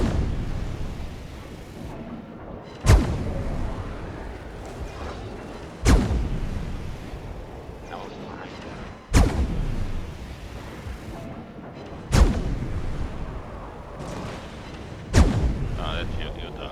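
Naval gunfire in a warship video game, five heavy booming shots spaced about three seconds apart, each with a long rumbling decay over a constant background roar.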